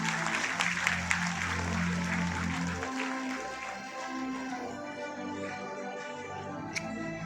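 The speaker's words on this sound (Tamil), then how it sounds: "ஒரு பெரிய கைத்தட்டல் ஃபார் த வின்னர்ஸ்." Applause for the winners of a children's drawing competition at a CPCL Swachhata Pakhwada celebration in Chennai, a steady wash of clapping from an audience that fades slightly partway through and continues for several seconds.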